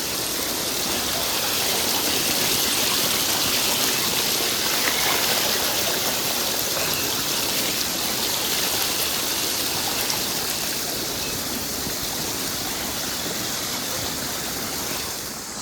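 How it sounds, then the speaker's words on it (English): Steady, dense rush of water pouring from a small natural waterfall at Semuc Champey, Guatemala, with a continuous bubbling splash close by, unbroken throughout. "I want to be under the small waterfall now."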